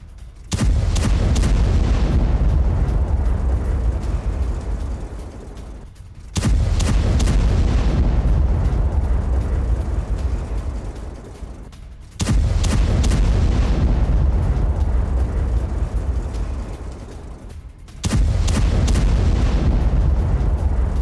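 Explosions destroying a mosque in Lebanon: four loud, deep booming blasts spaced about six seconds apart, each followed by a long rumbling roar that slowly fades before the next hit, with no speech.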